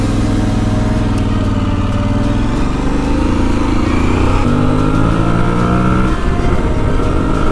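An Aprilia Tuareg 660 motorcycle idles at a stop sign, its engine a loud, steady, close throb that shifts slightly in pitch near the end, with no voices.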